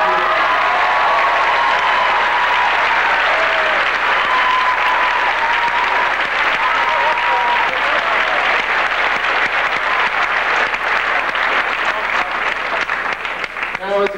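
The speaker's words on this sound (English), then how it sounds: "give yourselves a big round of applause" A large crowd at a 1994 MST3K fan convention claps continuously and loudly for a long stretch, a dense even wash of applause with scattered voices mixed in.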